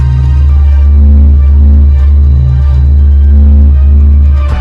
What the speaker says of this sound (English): Here's the sound of the sun.